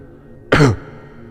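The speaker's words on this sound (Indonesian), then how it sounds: "Suara seperti orang berdehem." One short, close throat clearing, a gruff rasp of about a quarter second in an otherwise quiet room.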